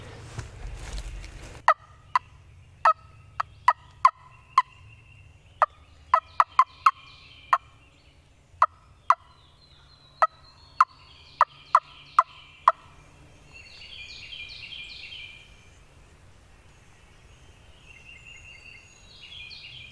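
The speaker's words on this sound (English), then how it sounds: "It was just one or 2 random gobbles I heard earlier" Several wild turkey gobbles ring out in a series of sharp, repeated calls over about eleven seconds, fairly distant in quiet early-morning woods, followed by softer songbird chatter.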